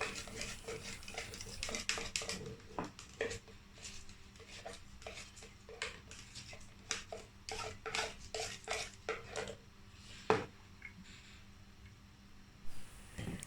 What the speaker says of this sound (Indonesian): kita langsung aduk rata dan campurkan dengan bahan-bahan yang tadi sudah